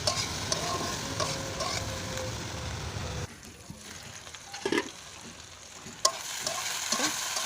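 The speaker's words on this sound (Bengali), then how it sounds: "পেঁয়াজকলি ভাজাটা প্রায় হয়ে গেছে" Spring onions and potatoes fry in oil with salt and turmeric, giving a steady, close sizzle with stirring scrapes that drops to a quieter crackle with occasional clinks partway through.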